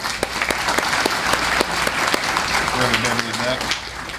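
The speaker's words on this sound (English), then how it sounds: "we can give them a round of applause, please" Lunch guests at a chamber of commerce luncheon break into warm, sustained applause, a dense patter of clapping with a few sharp individual claps standing out and a brief voice murmuring underneath toward the end.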